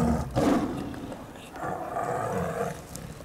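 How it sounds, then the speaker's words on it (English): Tiger roaring, two deep, rumbling growl-roars heard close and fairly loud, the first short, the second long and drawn out. "The tiger hasn't eaten since leaving Greece."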